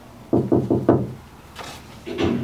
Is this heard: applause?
no